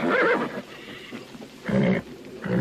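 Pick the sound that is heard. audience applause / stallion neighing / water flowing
stallion neighing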